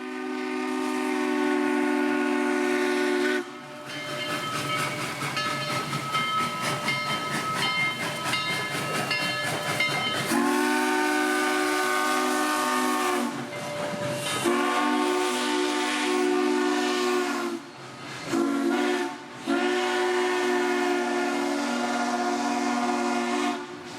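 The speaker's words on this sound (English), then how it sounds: "the S-curve shot of Southern 4501, the 282 Mikado, built by Baldwin Locomotive Works in 1911 for the Southern Railway" Southern Railway 4501, a 1911 Baldwin-built 2-8-2 Mikado steam locomotive near Chattanooga, sounds its chime whistle in long, loud sustained blasts with short breaks between them, over the low rumble of the moving train.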